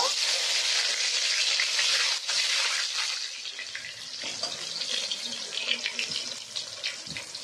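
Loud, steady sizzling of tomatoes frying in hot oil in a wok, a dense crackling hiss that fades slightly midway and continues without speech.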